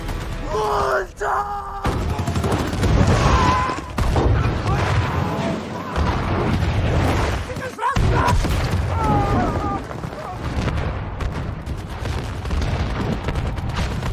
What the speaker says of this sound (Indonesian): Tank itu pun berhenti pada jarak tertentu, membidik pasukan Jerman dan melepaskan tembakan.